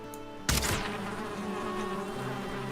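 Bees buzz in the Black Forest area of the video game Valheim: a sharp hit lands first, then a steady, droning insect hum continues at moderate loudness with no talking.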